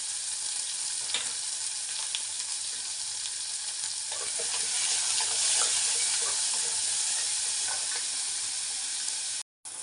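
Chopped onions sizzle steadily in hot oil in a pan while being browned for a chicken gravy, a continuous close hiss with faint stirring scrapes and no talking.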